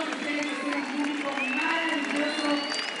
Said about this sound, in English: I'm really impressed with the crowds